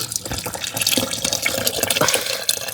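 Curry broth water is poured into a pan in a home kitchen, a steady splashing, gurgling liquid stream with no talking.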